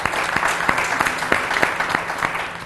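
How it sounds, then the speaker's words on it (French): Brief applause from an audience for the leading contestant in a health quiz show, a dense even patter of clapping with a few louder claps popping out, fairly close and unbroken by talk. "on peut l'applaudir"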